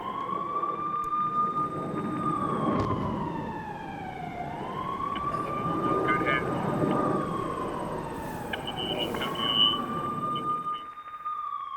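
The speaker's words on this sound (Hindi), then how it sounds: "शहर में लगातार बज रहे एयर रेड सायरन भी सुनिए" Air raid sirens wail across a city in Kyiv Oblast in wartime, a long rising and falling tone that carries from a distance and overlaps with a second siren, sounding continuously throughout.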